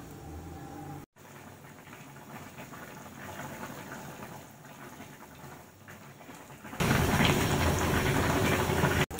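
Chicken sotanghon soup boils in a pot with a steady bubbling hiss that continues throughout, growing louder and fuller in the last few seconds.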